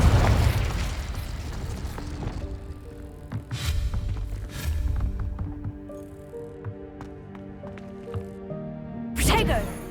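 Confringo explosion spell cast in the video game Hogwarts Legacy, a loud booming blast at the start that rumbles and fades, followed by scattered magical effects and a sharp burst near the end, with a voice speaking over it.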